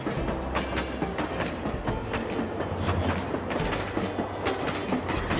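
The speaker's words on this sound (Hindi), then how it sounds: "ये देखो बुलेट ट्रेन स्टार्ट हो गई" A toy bullet train running, a busy rhythmic clatter of small wheels and rattling plastic with a steady mechanical hum underneath, close and continuous with no talk.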